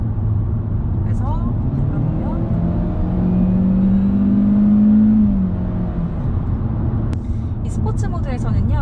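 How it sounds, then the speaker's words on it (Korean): A new Hyundai Avante in sport mode accelerates, its engine note rising steadily and growing sharper under a voice talking over it from inside the car. "가속 페달을 짓누를 때 엔진음의 소리 자체는 더 카랑카랑해졌어요"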